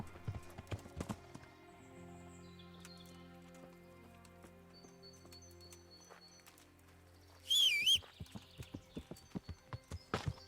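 Horse hooves clip-clopping in the medieval game Kingdom Come: Deliverance, a steady run of moderately close hoof strikes over soft ambient music, with a brief whinny-like squeal in the middle before the hoofbeats continue.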